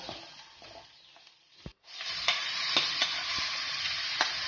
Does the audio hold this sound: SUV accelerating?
no